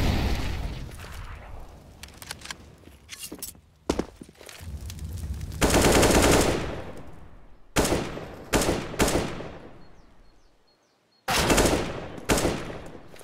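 Counter-Strike gunfire on the Inferno map fills a live Cloud9 versus SK Gaming match: loud bursts of automatic rifle fire and single shots come in clusters, separated by short quiet gaps.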